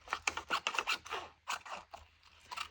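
Scissors snip through paper for scrapbook base pages, a quick run of close, crisp cuts with short pauses between strokes, fairly quiet and without talk.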